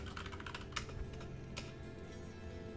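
Typing on a computer keyboard: quiet, rapid key clicks in an uneven rhythm, close by and alone, faint throughout.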